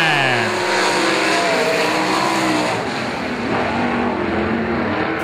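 Sprint cars race at Golden Triangle Raceway Park in a loud, continuous roar of engines. Revving pitches rise and fall as cars pass close, with crowd or announcer noise blended underneath.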